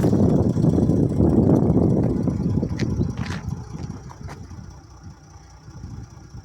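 A Mercedes W204 C320 with the M642 engine idles at close range in a steady, smooth low hum, gently fading toward the end, with faint higher ticks and no talk.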